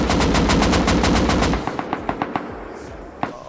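Video game gunfire: a fast, loud automatic burst of about a dozen evenly spaced rounds, then a string of quieter, more distant single shots and one last crack.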